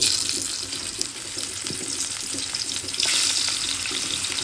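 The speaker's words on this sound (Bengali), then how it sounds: "মাছগুলো ভালোভাবে ভেজে নিব" Hilsa fish pieces frying in a pan, a steady loud hiss and crackle of hot oil running throughout, with a brief flare of sizzling near the end.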